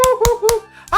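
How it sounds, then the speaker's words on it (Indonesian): Three sharp claps, evenly spaced and close, mixed with laughter and chatter, cut short at the end. "Itu tepuk tangan apa?"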